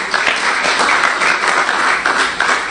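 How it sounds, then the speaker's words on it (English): A book launch audience gives sustained, dense applause that stays loud and even from start to finish, with no voices over it. "You can finish your applause now."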